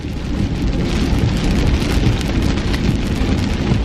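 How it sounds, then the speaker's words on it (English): Heavy rain pouring down outdoors, a loud, dense, unbroken hiss and patter of drops hitting surfaces, close and steady throughout with no voices. "This rain is really coming down."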